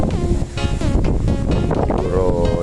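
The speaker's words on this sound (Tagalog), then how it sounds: "Malakas ang hangin kaya ayan ating tanim ay inuugang" Strong wind on a farm shaking a newly planted rambutan tree, buffeting the microphone with heavy low rumble throughout, gusting and roaring steadily.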